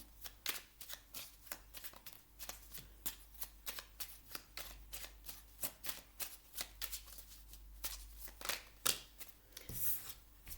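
Tarot cards being shuffled and drawn, a dense run of quick crisp riffling flicks and card snaps, close and fairly quiet with a low steady hum underneath and no talking.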